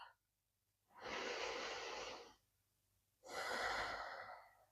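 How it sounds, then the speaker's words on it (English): Two slow, deep breaths are drawn and released during a quiet yoga practice, each a long, close airy rush separated by a pause of near silence. "Take a deep breath."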